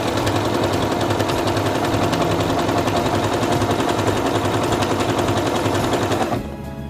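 A Singer Quantum Stylist 9960 sewing machine stitches out an elongated pattern in a fast, steady mechanical rattle, close and loud, stopping abruptly near the end.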